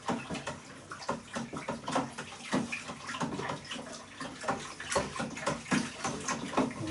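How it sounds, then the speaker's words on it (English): Sugar is stirred into a cider mixture in a fermenting bucket, giving repeated sloshing swishes of liquid at a steady rhythm, close and fairly quiet, with no talking. "We're just basically making sure that all that sugar is stirred properly into this mixture"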